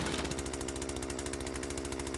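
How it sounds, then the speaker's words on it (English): A chainsaw gadget in the Yeeps: Hide and Seek video game gives off a fairly quiet, steady, rapid mechanical buzz with a pulsing motor rhythm, heard alone without talk. "Next up is the chainsaw."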